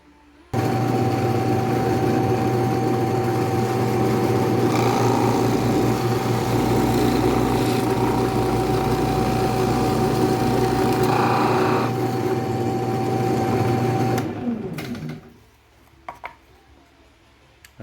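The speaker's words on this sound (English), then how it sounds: "drilling." A power drill whirs steadily through wood for about fourteen seconds at close range, then winds down and stops, leaving faint clicks.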